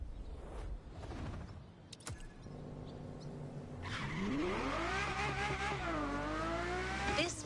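A Ferrari engine in the racing game The Crew Motorfest accelerates with a loud, continuous roar that climbs steadily in pitch through the gears. Tire noise mixes in, and no voices are present.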